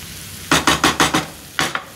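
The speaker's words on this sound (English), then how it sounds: "Mix that around." A spoon scrapes through stuffed crab filling mixed with lump crab meat in a bowl: five quick, evenly spaced strokes, a short pause, then two more, close and crisp.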